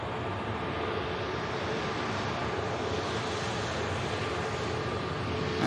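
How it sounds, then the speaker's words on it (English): A jet airliner on final approach lands at Manchester Airport, its engines a continuous broad roar that holds loud and steady throughout with no voices. "Get the aircraft down nice and steady."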